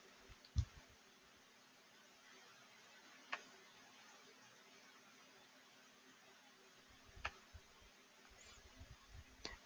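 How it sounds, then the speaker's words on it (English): Computer mouse clicks, a few sharp isolated clicks spaced several seconds apart with a small cluster near the end, faint against a quiet background. "I'll click on one of the objects and then I'm going to click on this link"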